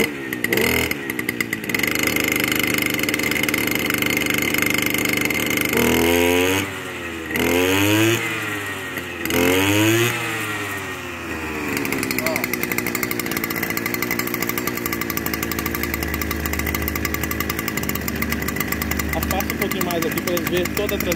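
A Stihl brush cutter engine, a small two-stroke, drones loudly and is revved up in rising and falling surges before settling back to a steady running tone, with a person talking over it.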